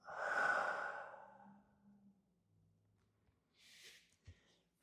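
A person lets out a long, breathy exhale during a yoga flow, loud at first and then trailing off, followed by a softer breath and a faint shuffle of movement.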